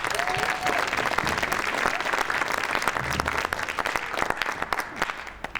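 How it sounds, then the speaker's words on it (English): A high school drama audience applauds the welcome at the opening of an annual one-act play festival, with thick, continuous clapping from a crowd, moderately quiet and steady throughout. "You can applaud for that."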